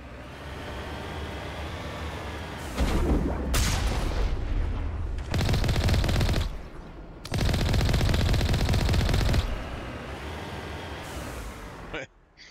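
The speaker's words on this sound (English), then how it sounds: "That cannon blast right in the face and he landed all the way over there." Gunfire and cannon blasts from the video game Mass Effect 1 Legendary Edition, heavy loud bursts of rapid shooting and booms in two long barrages with quieter stretches between.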